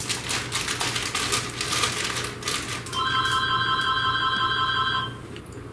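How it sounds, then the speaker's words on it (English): A telephone rings in a home kitchen during meal preparation, its bright electronic trill sounding close and steady for a few seconds over a background of clattering and typing-like taps. "my phone's ringing, sorry about that"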